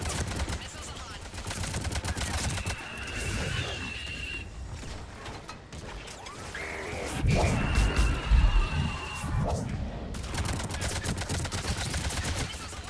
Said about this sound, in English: Missiles away. That's it for the missiles.